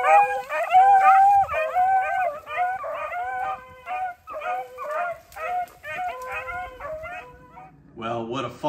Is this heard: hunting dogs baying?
yes